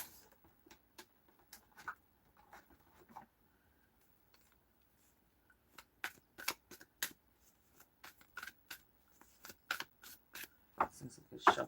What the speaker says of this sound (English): This thing's a good shuffle